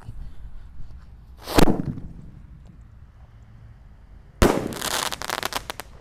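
A sharp firecracker bang goes off, then after a pause a louder explosion followed by a rapid crackling string of pops, fairly close outdoors, firecrackers set off inside bamboo.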